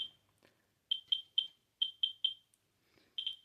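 Radiation detector with its probe held on uranium glass jewelry, giving a series of clear high-pitched electronic beeps in irregular bursts, some in quick pairs, close and loud with no talking.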